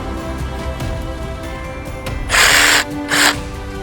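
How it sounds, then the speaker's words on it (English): An electric jigsaw cutting up a discarded tree in a yard, heard close in two short loud bursts of rasping cutting noise after a stretch of low mechanical rattling. "jigsaw to cut it up"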